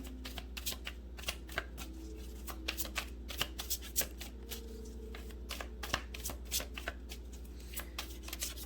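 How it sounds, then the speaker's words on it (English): A tarot deck is shuffled by hand close up, giving quiet, rapid papery riffles and taps in irregular bursts over several seconds. "And these cards are by Amy Zerner and Monty Farber, as well as the Enchanted Tarot."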